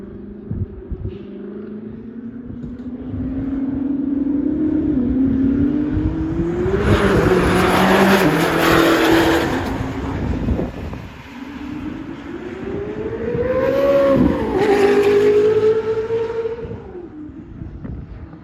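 A modern high-performance car engine revs hard in two long climbing sweeps, loud and close. Its pitch rises and falls with each pull over a rough mechanical roar, with no voices.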